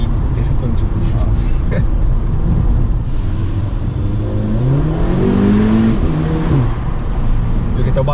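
A car accelerates hard with its exhaust valve open, the rising engine note climbing steadily and loud against wind noise.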